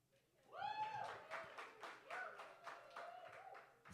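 Slam poetry audience clapping in a sparse, uneven patter of hands, starting after a brief quiet and carrying on at moderate volume with a voice speaking over part of it.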